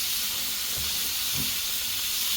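Patty melts set down on a hot Blackstone griddle, a loud continuous hissing sizzle with a couple of soft thuds as they land.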